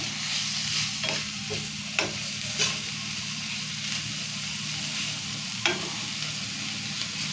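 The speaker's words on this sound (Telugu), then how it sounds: "అల్లం వెల్లిగడ్డ పసుపు ఉప్పు అన్నీ వేసుకొని ఒకసారి ఇలా కలుపుకోవాలి." Onions with ginger-garlic paste, turmeric and salt are stirred in a pan, a continuous close frying sizzle punctuated by a few sharp scrapes of the spoon against the metal.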